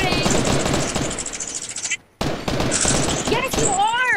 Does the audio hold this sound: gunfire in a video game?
yes